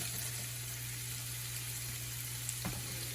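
Broccoli, bacon and onions sautéing in a pan give a soft, steady sizzle with a constant hum underneath and one brief clink near the end; no talking.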